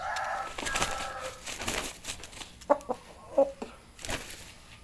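A dompo rooster clucks in short bursts, a few sharp calls close by with some background rustle.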